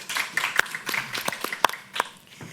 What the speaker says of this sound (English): Once again, a big round of applause to our panelists.